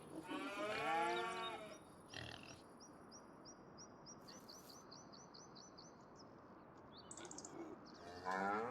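Cattle or water buffalo in the farming video game Farming Simulator 25 give a couple of close, drawn-out moos at the start and end, with quiet chirping birds in between over a soft outdoor ambience.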